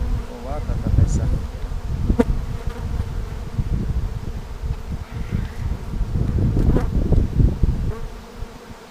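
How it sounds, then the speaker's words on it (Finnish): A honeybee colony at a hive in Finland swarms and buzzes loudly around beekeepers, a dense, close drone with people's voices mixed in. "Meteli on melkein korvia kuuma. Yhdyskunta pyörii meidän ympärilleen."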